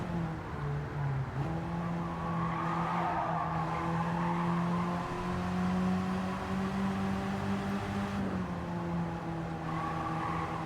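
Classic Alfa Romeo sliding sideways in Gran Turismo 7 on the Nürburgring, engine droning at a steady pitch with a long sustained tire squeal that shifts partway through, continuous and fairly faint.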